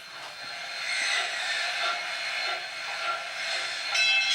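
A toy wooden electric train runs along its track, making a steady, moderately loud rolling hiss and rattle that continues throughout, with a brief brighter squeal near the end.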